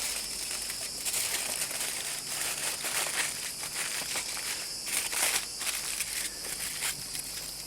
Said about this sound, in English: Then we wrap it up into tin foil.